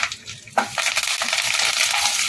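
Curry leaves and tempering spices hit hot oil with a sudden burst, then crackle and sizzle loudly and steadily while being stirred, for a Bengali jhaal suji recipe.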